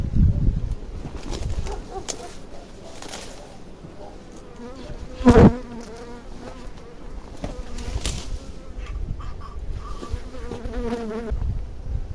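Bees buzz around a hive and an empty honey super in an apiary, a steady close drone with passing whines of individual insects, a bird cooing faintly in the background and one brief loud knock.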